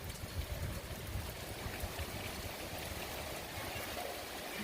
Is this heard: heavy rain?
yes